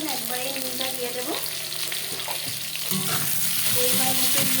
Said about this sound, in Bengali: আলুটা বেশ ভাজা হয়ে যাবে